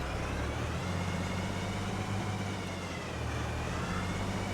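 A steady tractor engine drone from Farming Simulator 25, with a low humming tone, runs continuously at a constant level, loud and close, with no voices.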